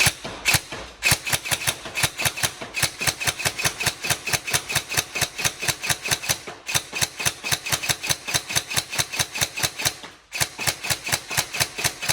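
An upgraded Tokyo Marui 417 DMR next-generation airsoft electric gun fires in rapid, even bursts of mechanical clacks, loud and close, with brief pauses between strings and no talking.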